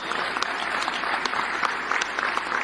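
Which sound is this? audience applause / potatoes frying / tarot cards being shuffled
audience applause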